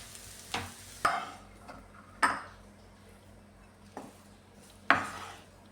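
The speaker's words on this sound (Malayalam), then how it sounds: "ഇടയ്ക്ക് ഇതൊന്ന് ഇളക്കി കൊടുക്കാമേ" Spatula scrapes and clinks against a pan as ivy gourd stir-fry (kovakka mezhukkupuratti) is stirred, a handful of sharp separated strokes over a faint background sizzle, close and fairly quiet.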